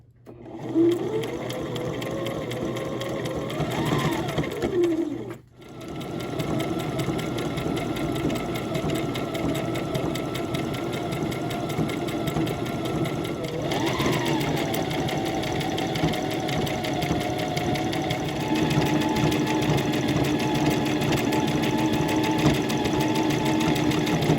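A sewing machine stitches stretchy jogger fabric in a long continuous run, its fast even whir holding at a steady pitch apart from a brief pause and a couple of speed changes, close and loud with no voices.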